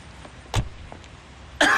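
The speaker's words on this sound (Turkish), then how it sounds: "Ne bu öksürük?" A man's cough, a short burst near the start and a louder, harsher one at the end, indoors in a mansion, heard close with quiet room tone between.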